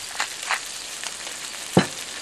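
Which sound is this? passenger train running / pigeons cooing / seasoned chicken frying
seasoned chicken frying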